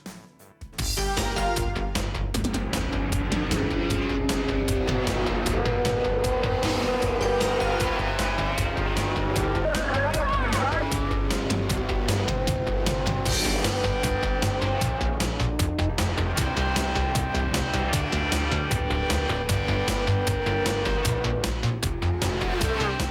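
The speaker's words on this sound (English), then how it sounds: "Up next, the Superbikes take on Shannonville." Superbike motorcycles racing at Shannonville Motorsport Park in Eastern Ontario during a Castrol National Superbike Series round, loud high-revving engines whining and shifting continuously, with pitch sweeps as bikes pass nearby.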